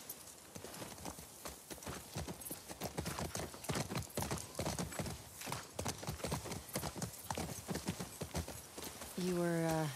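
Horse hooves clip-clop in a steady rhythm through The Last of Us Part II, mixed with speech and other game sounds, before a loud rising tonal sweep near the end.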